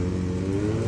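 A Yamaha R1 superbike with a crossplane engine revs steadily up close at a roadside superbike meet on Palghat road, a dense continuous engine drone filling the moment with no voices.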